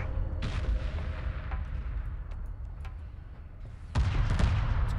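Missile corvettes fire on gunships in the Homeworld Remastered space battle, heard as a dense, continuous rumble of booming weapon fire with crackling bursts, growing heavier toward the end.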